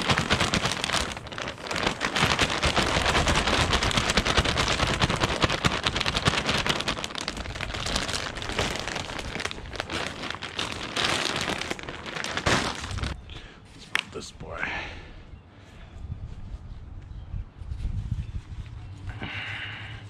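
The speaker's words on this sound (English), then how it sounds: "It's starting to rain." Rain falls outdoors during arborvitae planting, a dense, steady patter that thins out toward the end, with a few scattered knocks.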